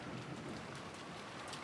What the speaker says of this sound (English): The crashing thunder told that the island had been sealed off from the outside world. A thick rain poured down,